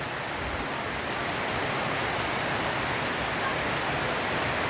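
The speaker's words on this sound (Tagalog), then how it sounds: "malakas po ang ulan at ang hangin" Heavy typhoon rain under Signal No. 3 in Paniqui, Tarlac, pours in a dense, unbroken hiss, with gusty wind blended into the roar; loud and steady, with no voices.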